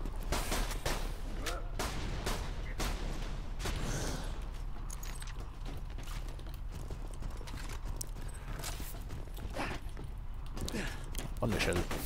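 Gunfire in the video game Borderlands 2: sharp, punchy shots scattered throughout, dense and loud over constant game noise and effects, with voices talking over it.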